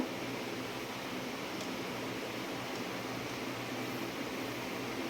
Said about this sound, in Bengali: এটা আমি দুবারে পিষে নেব